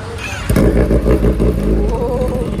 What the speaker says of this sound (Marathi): आता बघा हे बाईक चालू करतील.